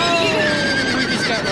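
A horse in Telltale's Game of Thrones video game gives a loud, wavering whinny as a voice talks over it.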